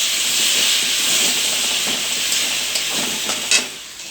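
Spice paste and tomato paste fry in a pan for a mackerel dish, giving a steady, close sizzle and hiss with faint stirring scrapes and one brief louder clack near the end.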